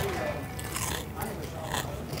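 Someone bites into crispy roasted pig face skin, chicharron-like with rendered fat, in Texas: loud, close crunches crackling repeatedly as the brittle skin breaks and is chewed.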